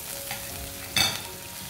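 Oil sizzles and crackles steadily as okra and aromatics such as curry leaves and green chillies are stirred in a pan, with a brief louder burst of frying partway through.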